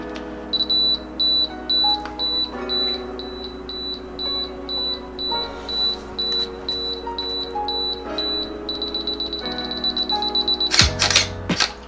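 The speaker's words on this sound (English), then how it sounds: "I was questioning why it was beeping like that, but apparently that's like a timer" A Canon Rebel T6 self-timer beeps in a steady, evenly spaced series of short high tones that speed into a rapid run before the shutter clicks at the end, with faint handling noise between beeps.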